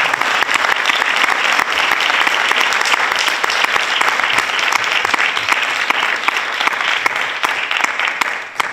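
A large audience at a masterclass in Calabria gives director Jonas Carpignano loud, sustained applause, a dense, steady clatter of many hands close up that runs on for several seconds before it begins to fade.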